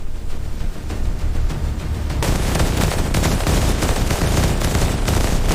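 Dense, continuous gunfire from a close-range shootout between bandits in the ravines of Chambal at night, a steady roar of overlapping shots that grows louder and fuller partway through.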